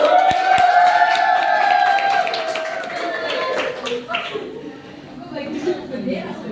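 Students applaud in a classroom during a group presentation on Earth's layers: scattered claps mix with raised voices and cheering, loud at first and then easing off.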